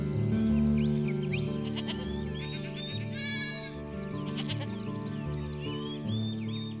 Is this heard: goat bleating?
yes